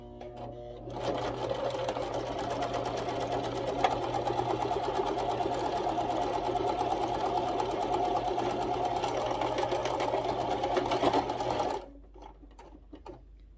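A sewing machine stitches fabric in one steady, fast mechanical whir with a rapid tick, running close and loud for about eleven seconds before stopping abruptly.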